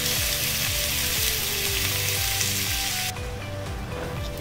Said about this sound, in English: You just want to brown this steak off on all the sides.